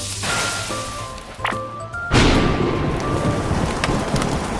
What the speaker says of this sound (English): Oh my God, it's raining heavily.